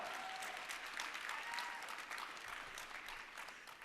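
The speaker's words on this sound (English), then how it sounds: "Can we clap for that?" A crowd at a behavioral health legislative forum breaks into steady applause, a dense, fairly distant wash of many hands clapping that fades slightly toward the end.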